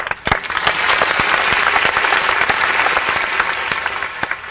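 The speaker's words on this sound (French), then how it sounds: "On applaudit." Loud studio audience applause on a French-language television quiz show, dense and continuous with sharp individual claps standing out near the microphone.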